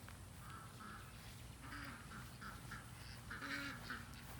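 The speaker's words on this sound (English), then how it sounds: "Let's say what's up to the duckies first. Got the ducks, the birds." Ducks and other birds call in short bursts outdoors, their quacks and squawks coming intermittently at moderate distance over steady background rumble.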